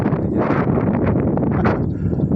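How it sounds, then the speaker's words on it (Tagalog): Strong wind buffets the microphone in a continuous loud roar, gusting slightly throughout with no voices. "Oh, grabe yung hangin."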